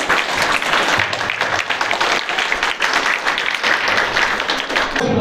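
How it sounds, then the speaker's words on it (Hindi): Loud, sustained applause from the audience at a farewell and felicitation ceremony for a teacher, continuous clapping filling the hall for several seconds with no talk on top. "एक बार जोरदार ताली बजाकर।"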